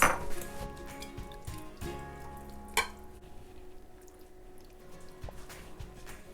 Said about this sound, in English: Let me set on the plate.